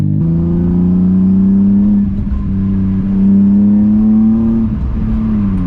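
A BMW E30 with an M50 engine revs up close and loud, its steady droning hum rising in pitch as it accelerates, with no talking.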